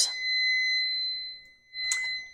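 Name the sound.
kitchen timer alarm going off for the sprinkler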